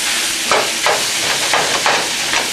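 Ground beef and Italian sausage sizzle steadily in a pan as they brown, a loud continuous frying hiss with a few soft stirring scrapes recurring about every half second.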